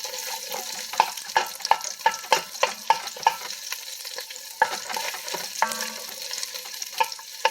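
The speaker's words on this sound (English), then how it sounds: "a little bit of oil in my Dutch oven. And I'm throwing my onion in there." Chopped onion frying in a little oil in a Dutch oven, a steady quiet sizzle broken by repeated light clinks and scrapes of stirring, no voices.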